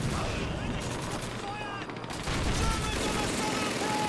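Machine gun fire in the video game Call of Duty 2 rattles in rapid, dense bursts along with other gunfire, loud and continuous, with talking over it.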